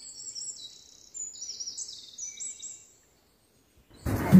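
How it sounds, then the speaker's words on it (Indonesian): Small birds sing and chirp in a quiet tropical forest with a series of thin, high trills and whistles, close and clear, followed by a brief thump and rustle at the end. "Dengerin suara burung."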